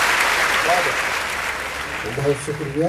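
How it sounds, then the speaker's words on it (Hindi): Brief burst of audience clapping at a kavi sammelan poetry gathering in Moradabad, heard under a poet's voice as he starts speaking. "एक बार जरा जवानों जोरदार तालियों के साथ अज़्म भाई का"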